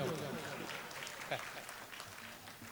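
Audience clapping at a wedding poetry recital, a steady patter of many hands that holds through the clip while voices murmur faintly underneath.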